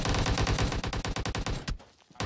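Rapid automatic gunfire in PUBG on the Miramar desert map: a dense, loud burst of fast repeated shots for nearly two seconds, then a brief pause and a final shot.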